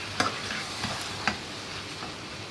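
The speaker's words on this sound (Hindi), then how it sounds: "आलू शामिल करके थोड़ा सा मिक्स करेंगे।" Potatoes are stirred into frying masala in a pan for spicy chicken dum aloo, with a steady sizzle and a few sharp scraping clicks of the spoon, close and alone.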